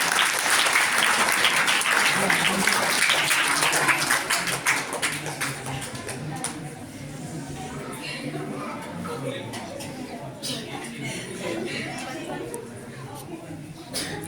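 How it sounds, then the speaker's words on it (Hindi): An audience at an annual madrasa prize-giving ceremony claps in a dense, loud burst that gradually thins into scattered clapping mixed with crowd chatter and voices. "तालियां बेटा तालियां।"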